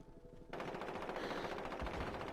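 Rapid automatic gunfire from a video game weapon, a dense sustained burst of loud shots that starts abruptly and keeps going without pause.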